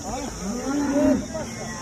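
A single cow gives one clear moo at close range at a farmers' cattle market in Sangola. The call rises and fades over a steady background hum, with faint crowd noise behind it.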